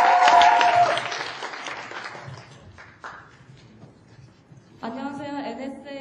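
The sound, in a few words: audience applause welcoming a presenter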